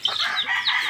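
Chickens at a backyard poultry pen in the Philippine countryside, close and fairly loud, giving bright, overlapping clucks and squawks in a short, busy burst with no talk.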